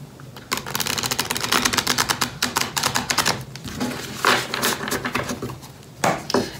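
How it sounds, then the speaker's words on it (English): Tarot cards being shuffled by hand, close up, giving rapid bursts of crisp papery clicking and riffling with short pauses between runs, and no voices. "Now let's not lose any time and go right into shuffling."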